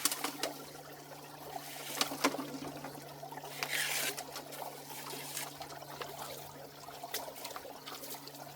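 Water trickles and pours off a gold prospecting shovel beside decomposed bedrock and black sand, a steady close wet splash with a low constant hum underneath.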